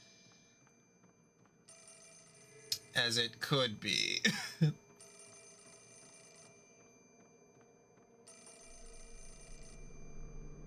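A telephone rings in a video game, repeated electronic ring bursts at regular intervals, with someone speaking and clearing his throat between rings.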